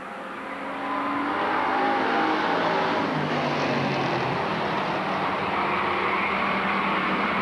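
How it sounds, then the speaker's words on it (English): Bomber class race cars in a heat race at Lakeport Speedway, a loud sustained roar of several engines running side by side, swelling after the first second and holding steady without a break. "Don Baker, Darren Tubbs side by side down the backstretch to start off 10 laps of heat racing."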